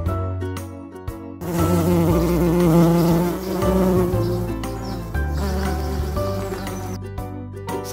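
A bee's buzzing hum drones continuously for several seconds, loud and close, blended with background music that plays before and after the insect sound.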